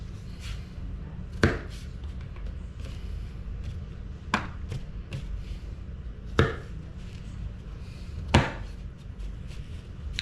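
A knife chops through the tough bottom ends of asparagus shoots on a paper plate, making four sharp, separate cuts spaced a couple of seconds apart over a low steady background hum, with no talking.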